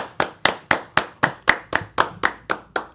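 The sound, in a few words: round of applause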